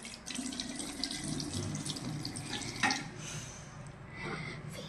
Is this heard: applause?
no